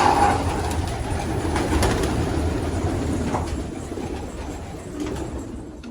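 Soft, low cooing from pigeons in a coop murmurs steadily against a dense background hum, with a few faint clicks and flutters.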